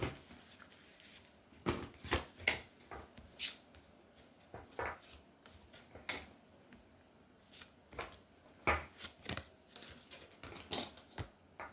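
Oracle cards are shuffled by hand in quiet, irregular bursts of soft riffling and slapping, close and fairly faint, with pauses between.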